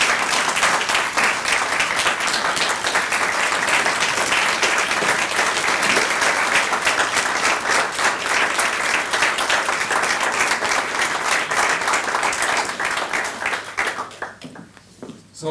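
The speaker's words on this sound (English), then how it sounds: "I think we should give them all another round of applause," Sustained, loud applause from an audience of a civic club meeting, honoring students; dense steady clapping that fills the room for most of the stretch, then quickly tapers off near the end.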